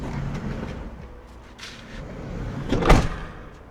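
A camper van's sliding side door, just fitted with a new roller bearing, rolls along its track and shuts with one loud thud near the end, with quieter handling noises before it.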